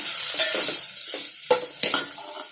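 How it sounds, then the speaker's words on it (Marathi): Boiled potatoes being stirred in a frying pan with green chillies, a steady sizzle broken by several sharp scrapes and knocks of the spoon against the pan, close up with no talking. "आता मी इथे उकडलेले बटाटे घालते। हे 4 बटाटे आहेत, मिक्स करून घेऊया"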